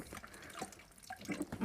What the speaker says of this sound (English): I'll rinse it out with cold water to fill it, to top it right up to the top